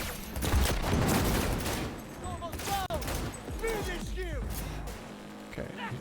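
Weapon fire in the video game Cyberpunk 2077 sounds as loud rapid bursts mixed with booming game effects and swooping tones, with a voice talking over the action.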